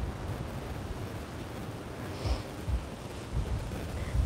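Wind gusting outdoors in a park, a steady broadband rumble buffeting the microphone with stronger gusts swelling near the end; no talking.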